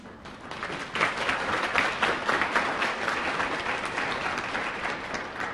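Audience applause at a university speaker series talk, a full room clapping steadily after a brief quieter start, holding loud and even until the end.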